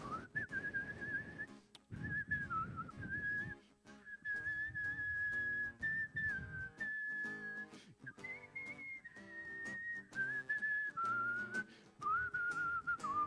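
A worship service congregation whistles a bright melody along with a song, the whistled line clear and continuous over the accompanying music.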